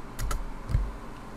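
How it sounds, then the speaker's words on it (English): A few quick keystrokes tap on a computer keyboard during a Windows search, close and clear over a low steady hum, with no one speaking. "you are going to type in services in the search bar."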